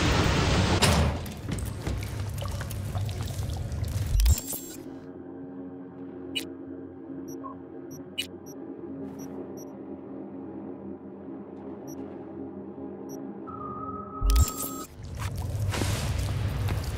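A game character wades through floodwater in Cyberpunk 2077, with sloshing splashes at the start and end framing a quieter, muffled underwater stretch of low rumble and faint drips.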